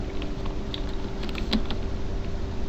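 Steady typing on a computer keyboard, close and clear, a quick run of light key clicks over a faint electrical hum with no talking.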